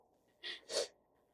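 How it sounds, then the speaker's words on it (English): A single sneeze, a quick two-part burst of a sharp intake followed by a louder explosive release, close but soft against a quiet background. "I'm about Yeah. to sneeze"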